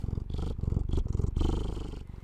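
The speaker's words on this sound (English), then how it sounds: "Can you hear him purring?" A male cat purrs right up close, a low, rhythmic rumble pulsing steadily with each breath in and out, with no talking over it.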